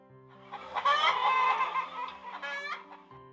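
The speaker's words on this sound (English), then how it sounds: "Hen." A hen clucks in a short series of throaty, irregular calls, fairly close and moderately loud, with no talking.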